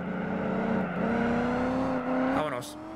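A racing car engine in the video game Gran Turismo 4 drones loudly, its tone climbing steadily as the car accelerates, then a quick shift or lift near the end drops it sharply, with faint talk mixed underneath.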